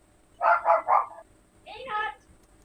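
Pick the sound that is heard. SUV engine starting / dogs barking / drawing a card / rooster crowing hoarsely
dogs barking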